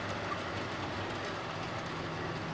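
A Baltimore and Ohio model train approaching on a layout, giving a steady, even rolling rumble with faint clicking wheel noise, continuous and fairly close.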